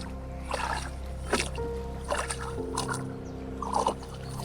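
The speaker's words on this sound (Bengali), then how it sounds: "ইচ্ছে করছিল বিলের পানিতে তাকে একবার দেখে নিতে, তাই জীবন মাঝের নৌকায় উঠে পড়া।" A wooden rowing boat moves across the Chinadi beel wetland lake in Narsingdi. Quiet, rhythmic oar splashes and gurgles come every second or so over a faint steady hum.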